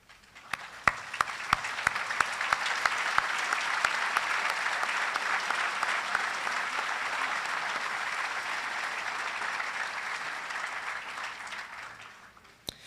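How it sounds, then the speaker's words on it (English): Applause for the class of 2022 graduates at a graduation ceremony: a large audience claps steadily for about twelve seconds, a few sharp claps at the start, swelling quickly, then tapering off at the end. "Class of 2022 graduates, let us stand and give a round of applause for each of them."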